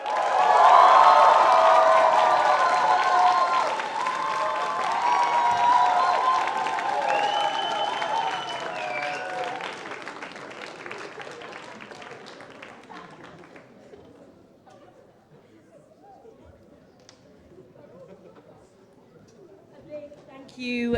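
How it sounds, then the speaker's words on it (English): Crowd at an arts awards show applauding and cheering for the cast, loud sustained clapping with whoops and voices that fades away over several seconds into a quiet room. "Can we have another round of applause for them, please?"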